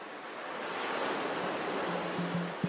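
Ocean waves washing onto a beach in the video game Star Stable Online, a steady rushing surf hiss that swells gently, with faint tones and a small click near the end.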